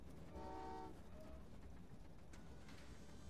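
Trains rumble and toot in the Train Valley video game, a horn sounding briefly near the start over a steady rolling rail noise that continues throughout.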